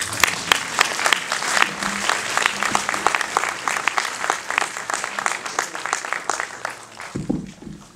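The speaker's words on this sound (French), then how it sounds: "Vous pouvez les applaudir." Sustained, dense applause from an audience at a film festival closing ceremony, steady and loud throughout, with a brief voice near the end.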